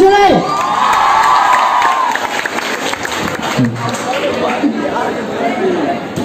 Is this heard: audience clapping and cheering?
yes